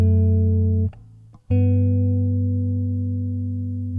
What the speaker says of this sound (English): So that's a diatonic scale in tenths